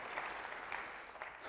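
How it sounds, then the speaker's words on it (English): Quiet, steady applause from an audience at a talk, a soft continuous patter of many hands heard from a distance. "Give them a round of applause real quick."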